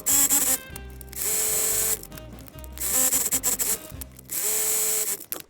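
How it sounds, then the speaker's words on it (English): A sewing machine stitches fabric for a book sleeve in three loud, close, mechanical bursts of rapid whirring and clatter, each lasting one to two seconds and separated by short pauses. "So I'm gonna stitch it now."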